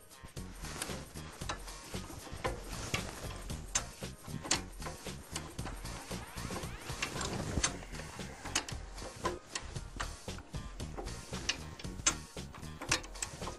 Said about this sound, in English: we'll show you how to drop the jack back down